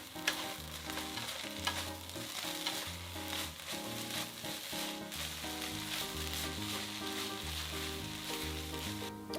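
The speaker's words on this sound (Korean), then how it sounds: "국물이 줄어들고 부드럽게 볶아지면 들기름 한 큰술 넣으세요." Seasoned Korean namul greens stir-fry with chopped green onion and a spoonful of perilla oil in a pan, giving a steady, even sizzle throughout with faint background music and no talking.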